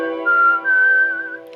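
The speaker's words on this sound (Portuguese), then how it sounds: "aqui agora eu vou pro assobio, né, que tem essa parte aqui do assobio, que é um elemento importante da música" A whistled melody line isolated from a song being mixed, one sustained clear tone sliding slightly in pitch over a soft steady backing, close and prominent.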